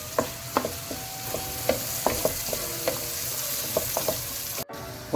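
Onion and tomato sizzle and fry in a pan for fish biryani, with a steady frying hiss and repeated scraping clacks of a spoon stirring through the mix, close and clear with no voices.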